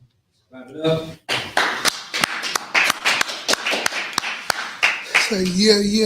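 Sharp hand claps ring out in a steady, fairly loud rhythm of roughly a dozen beats, with a voice briefly heard at the start and end.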